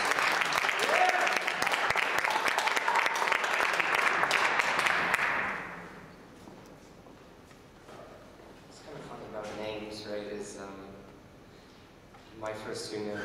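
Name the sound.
audience applause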